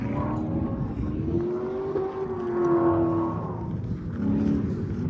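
A 500 hp BMW E90 335i revs hard and steadily while doing donuts on a track, its engine note rising and falling close by with a continuous, droning roar.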